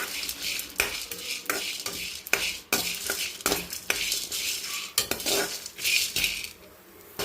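Pepper, cumin, curry leaves, shallots and dried chilies dry roasting in a pan for a prawn gravy, with a spoon scraping and stirring in repeated strokes, light crackle and clinks, close and steady, no talking.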